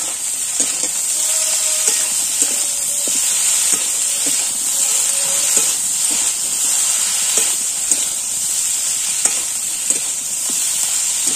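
Eggplant and onion fry in a pan with a steady, bright sizzling hiss, punctuated by soft clicks and scrapes of stirring at irregular intervals.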